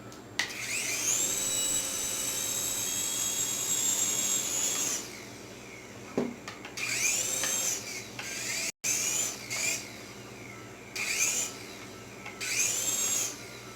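A Syma Speed S5 three-channel toy RC helicopter gives off a high, whining electric rotor buzz. The buzz surges and drops in short bursts as it flies, with brief gaps of near silence between bursts.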